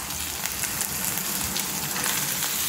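Chicken hitting hot oil in a pan while cooking a chicken gravy curry, giving a steady, dense sizzle and crackle that holds evenly throughout with no voices.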